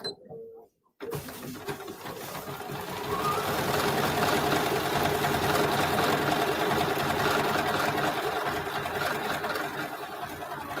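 A sewing machine running a decorative 308 stitch along a marked line, starting after a brief pause and then whirring steadily with a fast, even mechanical rattle, close and continuous.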